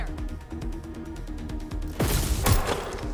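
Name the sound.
gunshots in video game Watch Dogs: Legion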